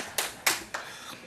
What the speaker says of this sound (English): You can clap anytime you want,